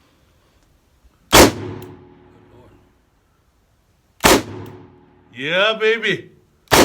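A new 2020 Colt Python revolver fires Winchester .357 Magnum 158-grain jacketed hollow points: three sharp, loud, close shots spaced a few seconds apart, each with a short ringing tail, and someone speaks briefly between shots.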